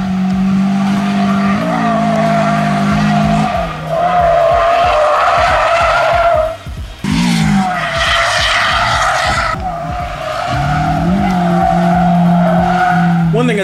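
A Honda S2000 drifts on track, its engine revving hard and dropping in repeated waves while the tires screech and skid loudly between throttle bursts.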